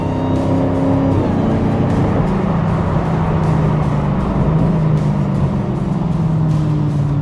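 A supercharged 2016 Dodge Challenger Hellcat stroker engine with over 800 hp roars loudly and continuously, its pitch rising and falling as it revs and accelerates under load.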